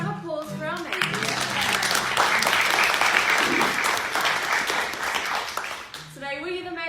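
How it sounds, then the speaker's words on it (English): Crowd applause for Maori maidens at a cultural performance, a full round of clapping that swells and holds for several seconds, with a voice heard before and after it. "How about a round of applause for our maidens?"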